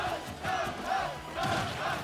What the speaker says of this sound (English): We have the Duck Hunt chants coming from the crowd.